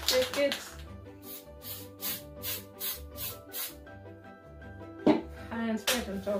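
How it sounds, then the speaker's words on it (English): An aerosol can sprays onto a pink and white craft design in a few short hissing bursts at the start and near the end, over soft background music. "we just spray a bit on top again"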